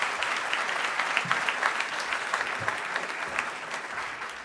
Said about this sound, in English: So we should give a round of applause for Ronnie and then bring him up.